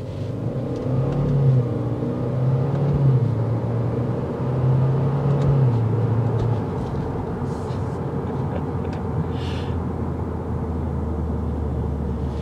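A 2022 Subaru WRX GT engine while driving, a low steady rumble inside the car with a few rising pulls of engine note in the first half, then settling into a constant drone.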